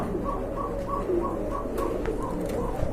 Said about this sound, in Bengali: এখানে আরেক জোড়া কবুতর দেখতে পাচ্ছেন